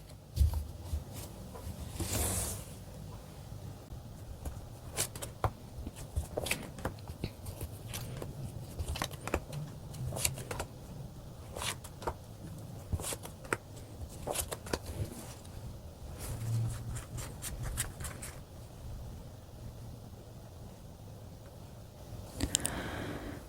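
Tarot cards being shuffled and drawn on a table, a run of soft crisp card snaps and rustles in irregular bursts, close and quiet, with light handling noises between them and no talking.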